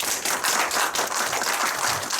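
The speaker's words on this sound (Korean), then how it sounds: "자, 뜨거운 박수로." Audience applause at a vegetarian lecture, with dense sustained clapping from many hands filling the room steadily for the full stretch, fairly loud and close.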